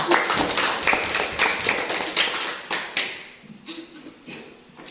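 A classroom of students clapping their hands together in a quick, scattered burst of claps that loses energy and fades into a few lighter, sparser claps.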